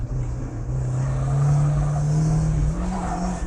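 A Flyin Miata Turbo accelerates hard on a race track, its engine a loud, steady drone that climbs gradually in pitch, with faint tire noise underneath.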